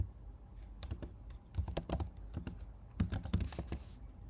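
Keys clatter on a computer keyboard while Swift code is typed in Xcode, quiet bursts of irregular clicks with short pauses between groups, close and alone.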